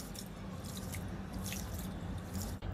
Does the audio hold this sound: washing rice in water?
yes